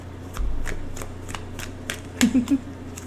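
Tarot cards being shuffled by hand, a run of soft crisp riffling flutters followed by a few quick slaps as cards flip out onto a surface, close and fairly quiet with no talking.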